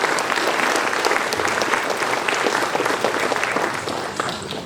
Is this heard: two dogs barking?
no